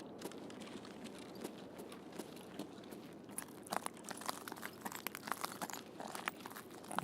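Crunching sounds in a video game come as a dense run of crisp crackles and crinkles, growing busier and louder toward the end, with no one talking.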